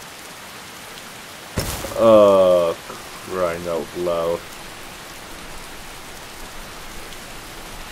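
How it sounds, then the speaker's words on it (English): Steady rain falls in the video game Skyrim as a soft, constant hiss, while someone speaks a few brief words partway through. "Hate the rain."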